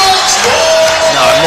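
Basketball arena crowd at a Glasgow Rocks versus Manchester Giants BBL Championship game, standing and cheering in a steady, loud wall of roar and whoops throughout.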